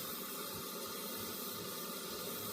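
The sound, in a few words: water boiling in a 1930s coffee pot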